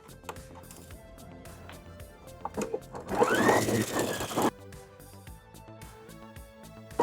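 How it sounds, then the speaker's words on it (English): Sewing machine stitching an elastic waistband, a short burst of rapid, whirring stitching in the middle, with quieter handling clicks and fabric movement before and after. "So just remember to keep everything nice and flat while you're sewing."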